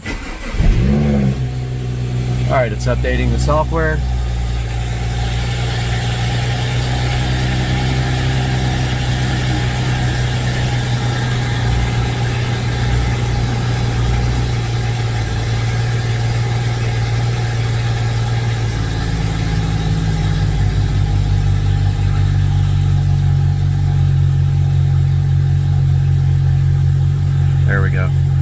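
A car engine runs steadily throughout, idling low with a brief rev early on and a rise in pitch near the end, while a person talks over it.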